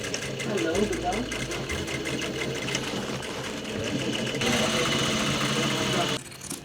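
A sewing machine runs in a fast steady chatter while stitching a flat fell seam on dungarees, loud and close, with a person talking over it.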